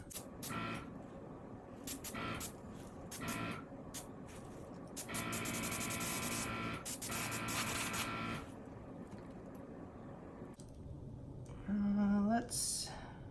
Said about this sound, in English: I'm going to start down a little bit lower because I want to blow that forward.